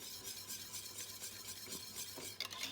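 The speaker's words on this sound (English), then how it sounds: "And give that a good whisk up." A whisk working through a thickening sauce with Dijon mustard and nutmeg for lasagne, giving soft, quiet, continuous swishing with faint clinks against the pan.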